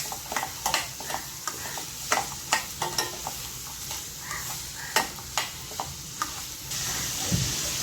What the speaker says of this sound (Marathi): फरसबी टाकते त्यात गाजर मटार तर आपल्याला परतून घ्यायचं आहे छान फास्ट गॅसवरच